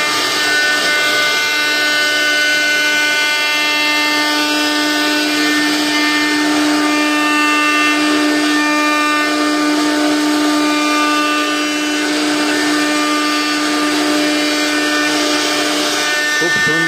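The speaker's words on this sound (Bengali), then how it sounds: "কম্পিউটারের সাহায্যই নকশা কেটে চলে যাচ্ছে।" A computer-controlled cutting machine carving a design runs steadily and loudly, with a sustained whine and hum throughout under faint background sound.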